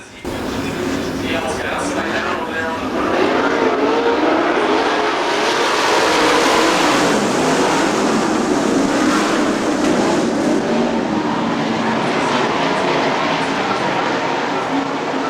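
Sprint cars race around the dirt track at Fremont Speedway in a 2003 IRA Sprints event, their engines a loud, continuous, roaring drone that swells and holds steady as the pack passes.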